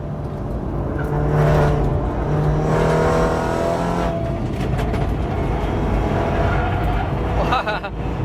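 A heavy race car's engine pulls hard and revs on a track, droning steadily throughout from inside the car while a person talks over it.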